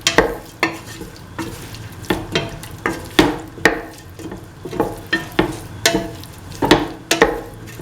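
Beef stew with garam masala spices being stirred in a pan, a steady rhythm of close scraping strokes roughly every half second over a soft sizzle, with no talk.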